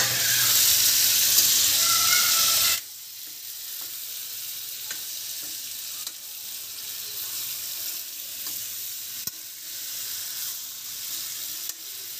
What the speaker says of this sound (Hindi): अब बस हल्की आंच पे पकाना है इसे